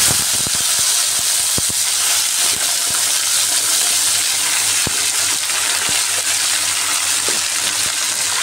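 Cut yardlong beans and potatoes drop into hot oil with frying black cumin and fenugreek, setting off a loud, steady sizzle and hiss with a few sharp clatters near the start, no talking.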